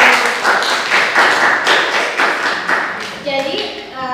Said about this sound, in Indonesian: tepuk tangan untuk kelompok Laila